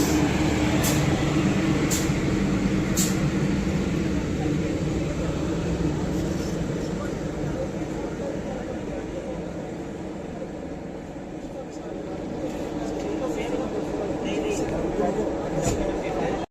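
Nauchandi Express train hauled by push-pull locomotives rolls along with a steady, loud broadband rumble of wheels and carriage noise, with occasional brief higher clicks and rattles throughout.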